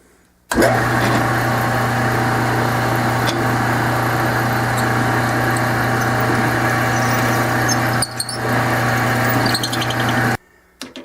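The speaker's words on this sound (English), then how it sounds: "chuck this thing up in the back up in the chuck here, and we're going to drill this hole in the center out bigger." A drill bores out the center hole of a Franklin half dollar silver coin held in a lathe chuck, a loud steady whine with a sharp start, running evenly for about ten seconds before stopping abruptly.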